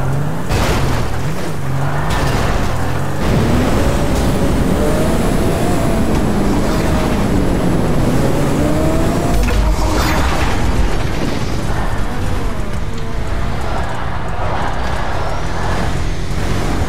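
Truck driving in the GTA RP video game, a loud, continuous engine rumble with shifting pitch, mechanical clanks and a thudding impact partway through.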